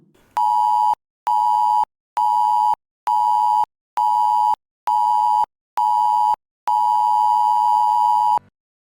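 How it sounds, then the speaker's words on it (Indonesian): A ferry's emergency alarm, aboard KMP Bahtera Nusantara 02, sounds a loud electronic tone in seven short, evenly spaced blasts, then one longer sustained blast. "Jika Anda mendengar bunyi alarm pendek 7 kali dan panjang 1 kali"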